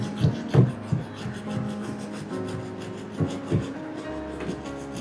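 An ingredient for a homemade face pack is rubbed against a grater, making rasping strokes, a few louder scrapes early and again later, near and with no talking.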